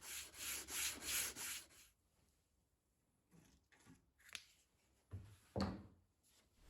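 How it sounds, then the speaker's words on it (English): Hand sanding on a mid-century bureau desk, in channels and around edges: a few seconds of steady rhythmic scratchy strokes, then quieter scattered rubs and knocks close by. "I also like to do a bit of hand sanding in the channels and around the edges though"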